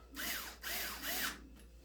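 Electric screwdriver driving a screw back into place, three sustained whirring bursts with brief pauses between, close and loud, no talk.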